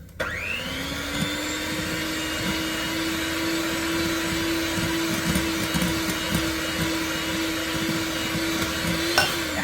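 Electric mixer beating cake batter while oil is drizzled in, a steady loud motor whine with a constant pitch running throughout, starting up at the beginning and stopping near the end, with no voices.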